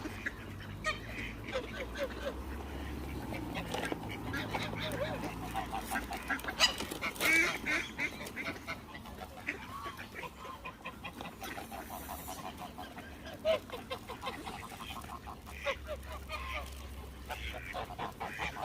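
Geese and ducks honking at a waterside in England, scattered calls near and far over a low background murmur, with a few voices talking quietly.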